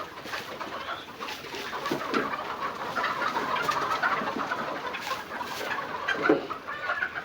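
Fayoumi hens on a grass-fed farm cluck and murmur softly at a distance, a busy flock chatter running steadily throughout with occasional louder calls.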